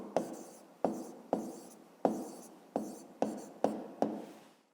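Pen or pencil writing an answer by hand on paper, a run of eight short scratchy strokes in a regular rhythm, close and soft, with no voices.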